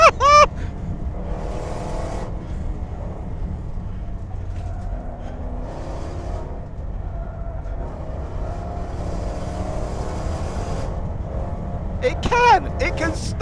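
A Land Rover Bowler EXR S races a Caterham Seven, engine droning steadily from inside the car with shifting revs, while a person talks over it throughout.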